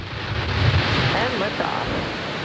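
A SpaceX Falcon 9 rocket's engines ignite on a Starlink launch, a rising low rumble and broadband roar building quickly, with a voice briefly heard over it.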